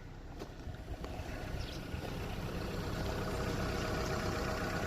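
A Skoda Octavia engine idling smoothly, heard as a steady low rumble with broad hiss, some wind-like noise and a few faint clicks, with no talk.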